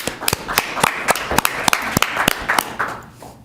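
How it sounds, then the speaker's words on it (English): At a governing body special meeting, a small group in the room gives a round of applause, with individual claps distinct and fairly regular before the clapping fades out at the end. "round of applause for the community appearance group"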